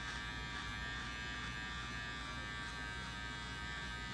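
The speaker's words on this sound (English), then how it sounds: "we're going to flip it over and use it just like a clipper" An electric hair trimmer, flipped over and used like a clipper, buzzes continuously and evenly up close while it cuts hair in a men's mullet haircut, a steady whine with no pauses.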